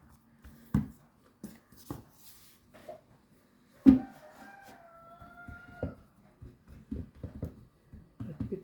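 A rooster gives one clear drawn-out crow in the middle, preceded and followed by scattered clucks and soft knocks, heard at moderate distance in a quiet setting.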